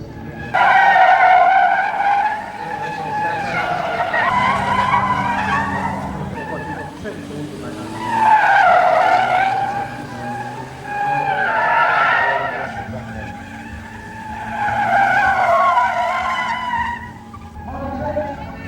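Gymkhana race cars in the final showdown of the 2005 International Gymkhana Grand Prix skid hard, with about four long waves of loud, wavering tire squeal rising and fading over engine noise.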